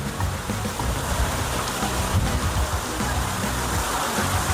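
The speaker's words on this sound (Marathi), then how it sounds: "आणि ते पाण्याचं फाउंटन आहे." Steady rushing, splashing water fills the scene continuously, like a fountain pouring nearby, with no voices.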